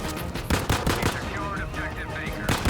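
Rapid bursts of gunfire crackle in quick succession, loud and close, in the video game Battlefield V.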